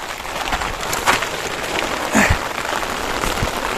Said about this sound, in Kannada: ಅಲ್ಲಿ ತನಕ ಮಳೆಯಿಂದ ಎಂಜಾಯ್ ಮಾಡಿ